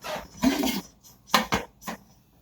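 Metal lid set onto a cooking pot of pasta and broccoli on the stove, several distinct clanks and clinks of lid against pot rim, close and fairly loud with quiet gaps between.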